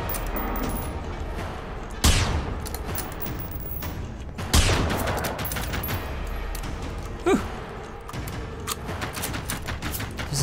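Gunfire in the video game Generation Zero as shots are aimed at a barrel: a few sharp, separated bangs with ringing tails over a steady low background.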